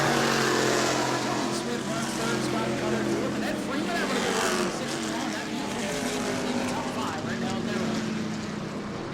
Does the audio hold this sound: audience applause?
no